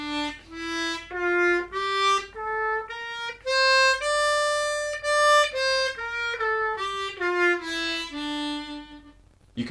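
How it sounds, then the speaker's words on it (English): Harmonica playing a natural minor scale in third position, a clear run of sustained single notes stepping up and back down in a steady rhythm, played solo and close with no talk. "So the natural minor scale in third position would sound like this."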